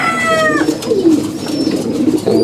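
Pigeons coo in low, rolling murmurs, close by, with a few higher chirps and whistles from other birds at the start and end.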